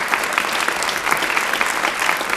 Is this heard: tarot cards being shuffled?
no